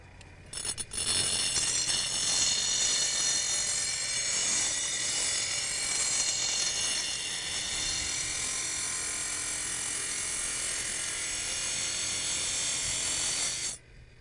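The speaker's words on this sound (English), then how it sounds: "it's a whole lot faster to use one of these little motorized bench grinders." A small motorized bench grinder runs steadily as a lawn mower blade is pressed against the wheel, a loud continuous high grinding whine that starts abruptly, holds for about thirteen seconds, then cuts off.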